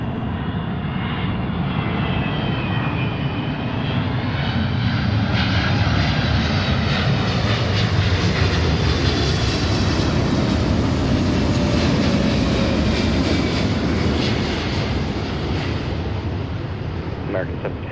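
Boeing 777 jet airliner at Seattle airport produces a loud, continuous engine roar that swells and holds throughout, broad and rumbling as it passes nearby, with faint voices underneath.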